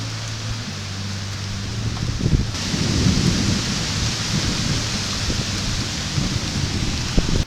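Heavy rain pours steadily in a thunderstorm, with a low rumble of thunder rolling underneath the constant downpour.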